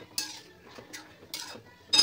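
Corn kernels stirred in a pan for corn masala: a few light metallic scrapes and clinks of a spoon against the pan, sparse and quiet, with near-silence between strokes.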